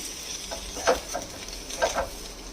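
Half a spoon of washed poppy seeds fries in a pan, a soft continuous sizzle with two distinct stirring scrapes, heard close and fairly quiet with no voices.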